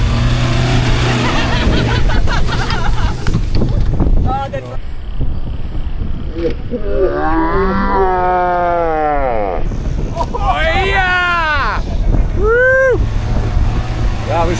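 Toyota Prado towing a large Jayco caravan up an uphill stretch of soft beach sand, a steady engine drone with wind buffeting the microphone throughout, while people talk and exclaim over it.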